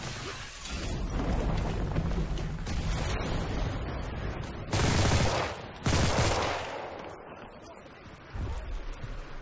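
Gunfire in the shooter Enlisted, a dense fusillade of rapid shots mixed with wind-like rushing noise, with a few louder close bursts standing out; someone talks over it at times.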